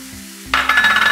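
Diced pancetta dropped into hot oil with softened onion, bursting into a loud, steady sizzle after a brief quiet moment with a faint clink, the frying crackle holding on to the end.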